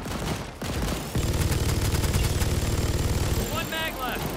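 Sustained minigun fire in the sci-fi shooter Second Extinction: a dense, rapid continuous roar of gunfire running several seconds after a brief burst, with game effects and faint voices mixed in.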